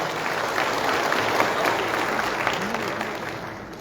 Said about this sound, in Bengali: সবার কাছ থেকে আরো একবার জোরে করতালি আশা করি।